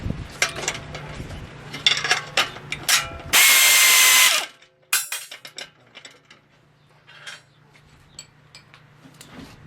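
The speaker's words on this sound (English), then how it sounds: "So we're going to go tighten all these parts bit by bit." A ratchet clicks in quick bursts while parts of a Typhoon Tilter wind turbine assembly are tightened, loud and close, with a brief dense buzz of a power tool midway and a low background hum.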